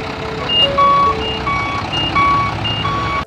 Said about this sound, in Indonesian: mereka berdua pun langsung memarkirkan truknya masing-masing agar mempermudah Bang Jarwo untuk menaikkan sapinya ke atas truk